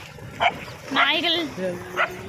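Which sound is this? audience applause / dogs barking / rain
dogs barking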